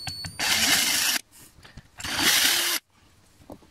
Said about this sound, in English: now holding this in place, I can drill